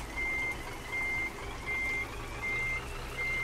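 Reversing beeper of a Scania truck in Euro Truck Simulator 2, five evenly spaced high steady beeps over a low idling engine drone, clear and alone.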